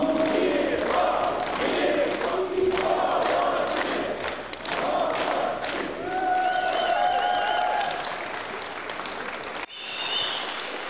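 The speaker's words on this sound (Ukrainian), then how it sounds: "шалені, бурхливі, невгамовні оплески!" Wedding guests clap hard and cheer, with shouting voices mixed into the dense applause and some crowd noise, loud and continuous throughout.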